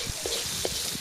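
Garlic fries in a pan while cooking pork pares, giving a short burst of close, crackling sizzle with a few soft stirring knocks.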